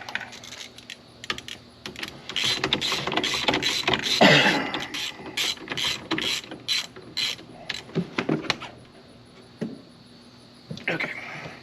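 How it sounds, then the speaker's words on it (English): Ratchet tightening down the steering wheel on a 1994–2004 Mustang with a GT350R-style wheel, a run of quick clicking bursts in steady rhythm, close and fairly loud, then a pause and a few more clicks. "I just gotta tighten it down one more time."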